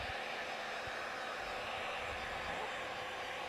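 A heat gun heats car paint protection film, blowing a steady, even roar of hot air with no breaks, close and moderately quiet.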